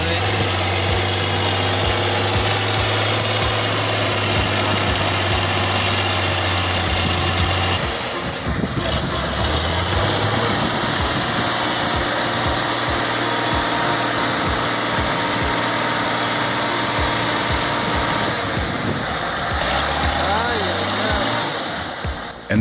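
Tractor engine labouring while stuck in mud, a loud continuous roar that drops and shifts pitch as it revs and strains, with speech partly audible over the running engine.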